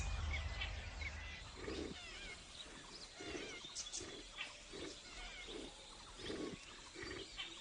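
A Bengal tiger roaring in the wild near a waterhole, a series of low, rhythmic grunting roars repeating about every half second to second over steady ambient jungle noise.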